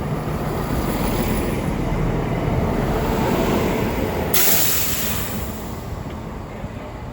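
Diesel multiple unit CrossCountry 170 train from Cardiff Central arriving at Derby station, a steady loud broadband rumble and rush throughout with no talk, easing slightly toward the end.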